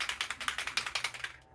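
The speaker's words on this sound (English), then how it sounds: "So they say to shake it" An e.l.f. Stay All Night Micro-Fine setting mist spray bottle is shaken in a quick, steady rhythm, about a dozen sharp rattling strokes close up, with no talking.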